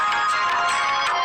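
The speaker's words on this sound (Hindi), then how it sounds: "किसी का फोन आ गया" An incoming call's phone ringtone plays as a steady, bright electronic melody with quick repeating pulses, moderately loud and alone.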